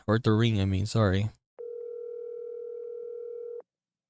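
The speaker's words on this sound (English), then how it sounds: "After about 5 seconds, the phone began to ring." A single sustained telephone ringback tone from the video game Witch on the Holy Night, a steady electronic pitch of about two seconds, following a short stretch of speech.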